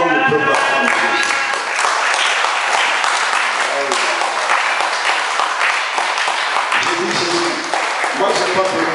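Church congregation clapping and cheering to acclaim Jesus during a French-language sermon, loud, dense applause sustained throughout with voices shouting over it.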